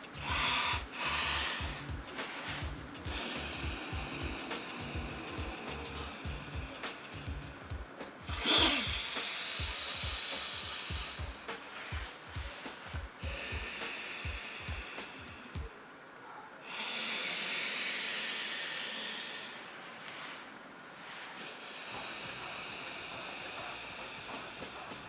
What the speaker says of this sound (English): breathing out and in through the side that's open